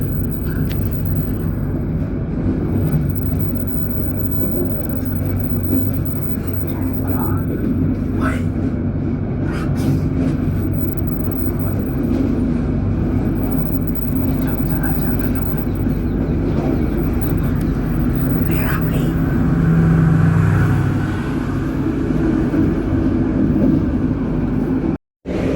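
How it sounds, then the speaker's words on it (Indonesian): An Indonesian passenger train pulls out of a station bound for Solo Balapan, a loud, continuous low rumble and roar of the moving train that carries on throughout, with people talking over it. "keretanya persiapan berangkat dari Stasiun Salem"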